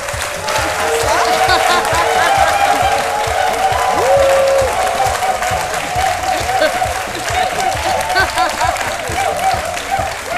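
A TV studio audience applauds warmly as a guest joins the set of an Ivorian midday show, steady clapping from many hands with some cheering mixed in and a voice briefly heard over it.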